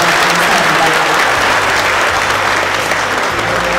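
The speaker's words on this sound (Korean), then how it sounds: "여러분 큰 박수 부탁드리겠습니다" Loud, dense audience applause at a forum after a dialogue between a former unification minister and the president of the Council on Foreign Relations, steady and continuous throughout.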